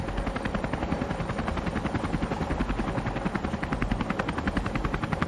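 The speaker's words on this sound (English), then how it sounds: "I saw the reflection of the helicopter gunship in the lieutenant's visor" Helicopter gunship sound effect from an audio drama: a steady, fast rotor thump with a dense mechanical drone, loud and continuous throughout with no voices.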